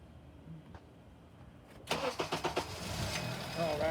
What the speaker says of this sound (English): So here we go, starting the car.